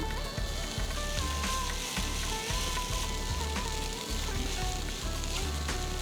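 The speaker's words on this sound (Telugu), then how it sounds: "శుభ్రంగా కడిగి పెట్టుకున్న అటుకుల్ని తాలింపులో వేసి" Washed poha added to a hot turmeric tempering in a pan, giving a steady close sizzle and frying crackle with occasional stirring clatter, no talk.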